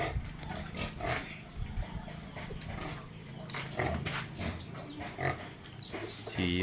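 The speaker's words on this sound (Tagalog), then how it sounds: "Update naman sa ating mga baboy." Pigs in a backyard farm pen, grunting and snorting repeatedly at close range with a rough, irregular rhythm, plus a few louder squeals and low roaring grunts throughout.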